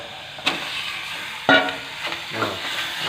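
Minced pork sizzles in a hot pan under a steady hiss while stir-fried for larb, with a spatula scraping and clanking against the metal a few times.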